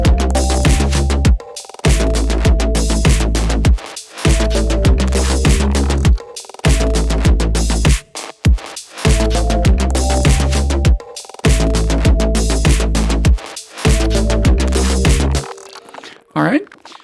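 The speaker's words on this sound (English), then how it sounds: "What if I add a new sound that's like a chord sound happening in the background, kind of a bed, so it's not so sparse and dry?" A synth chord progression made in the Pigments synthesizer serves as a sustained background bed in a mix, its chords held in repeating blocks and separated by short gaps, loud and close with no voices.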